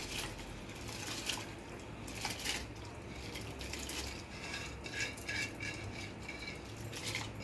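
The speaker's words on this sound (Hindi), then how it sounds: "अब ये देखें, बिस्मिल्लाह करके इसमें मैं ये चावल डाल दूंगी।" About 1 kg of dry rice pours steadily into a metal cooking pot, a continuous rattling hiss with light clinks and no voices.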